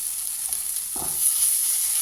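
Fried potatoes sizzle steadily in a hot pan, a constant high crackling hiss with a soft scrape of stirring partway through.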